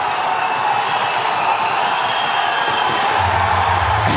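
A crowd cheering at a strongman event during a power medley with a sled push, a loud continuous roar of cheers and whoops, with a low thud near the end.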